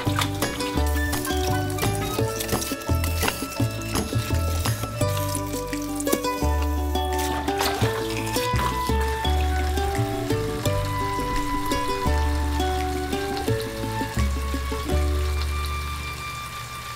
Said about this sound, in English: Rinse in the filtered water.